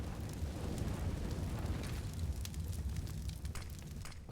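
A Counter-Strike grenade blast in a match on the Mirage map, heard as a dense, sustained low rumble with crackling debris that fades slightly, ending in a sharp pop.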